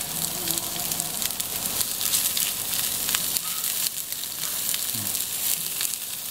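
Large onions sizzle in hot oil with browned garlic in a pan, a steady close crackling fry with occasional stirring scrapes and no talk.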